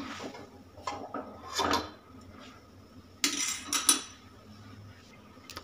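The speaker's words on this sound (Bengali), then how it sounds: "কেকের বাটিটা আমি প্রেশার কুকারের ভিতরে দিয়ে দিচ্ছি" A cake bowl is set onto a stand inside a pressure cooker, making a few close metallic clinks and scrapes in separate bursts against a quiet background.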